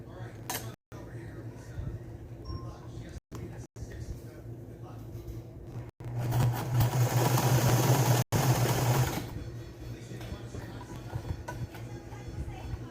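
Sewing machine stitching a quilt, a brief louder burst of rapid mechanical running in the middle, with low room noise and quiet handling around it.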